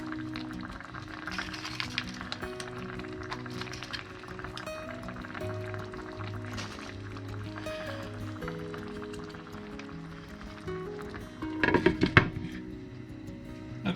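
Bolognese sauce with bacon and bay leaves simmering in a pot, a steady low bubbling and gentle hiss throughout, with a brief louder clatter of a utensil or lid near the end.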